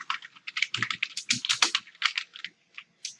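Close, crisp typing on a computer keyboard while entering a figure caption in a word processor, rapid uneven bursts of key clicks with a brief pause before a few more strokes.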